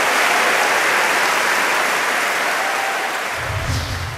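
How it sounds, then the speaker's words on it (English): Audience applause for a junior school choir at a choir competition semi-final: dense, steady clapping from a large crowd, loud throughout and fading slightly toward the end, with no talk over it. "And a huge round of applause for Bax, Heathmouth School Choir."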